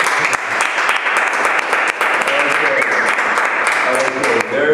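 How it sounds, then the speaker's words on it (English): An audience applauds in a theater-style presentation, steady clapping with a voice talking over it near the end. "Okay, everybody applaud."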